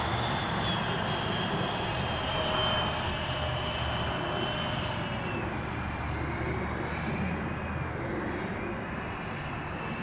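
A radio-controlled EDF model airplane flies past with a continuous roaring ducted-fan whine that slowly shifts in pitch as it moves away.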